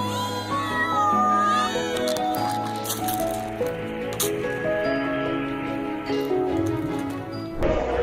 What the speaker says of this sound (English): This man wakes up to see 10 cats screaming for breakfast on his.